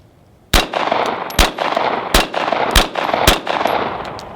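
A 9mm M11 firing at hardened steel rifle targets: a rapid string of about six sharp gunshots over a few seconds, each with a bright metallic ring from the steel, loud and close.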